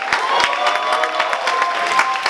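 A comedy club audience applauds steadily with scattered cheers, a dense, even wash of clapping that carries through the whole moment at close range.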